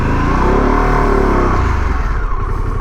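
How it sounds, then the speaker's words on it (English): A Harley-Davidson Pan America motorcycle engine revs loud and close, a steady growling roar that swells in the first half and then settles into a rough, throbbing idle. "That engine's got a lot of growl for a little movement."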